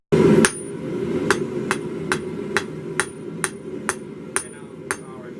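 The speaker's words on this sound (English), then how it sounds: "keep driving it back like you're doing. Now start to roll back up this way with the hammer" Hammer blows drive a piece back in a workshop, about a dozen sharp, evenly spaced metallic strikes ringing out close and loud over a steady low hum, with an apprentice being guided.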